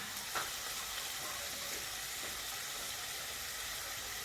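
Vegetables and sliced squid sizzle steadily in a hot frying pan as they are stirred, a soft continuous frying hiss with faint scraping, no talking.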